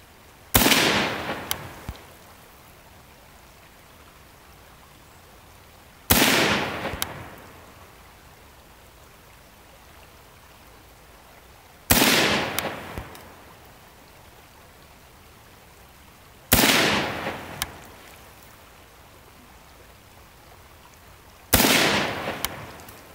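A Ruger M-14 rifle chambered in 5.56 NATO fires five single shots at a 10-yard target, each a sharp, loud crack with a fading echo, spaced roughly five seconds apart with quiet between and no talk.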